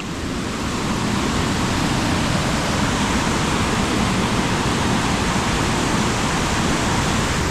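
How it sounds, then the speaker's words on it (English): A waterfall roars in a dense, steady rush of falling water, constant and close throughout, with no voices. "we can come down here and look at this waterfall"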